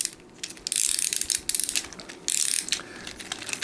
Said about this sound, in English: You just do this clockwise,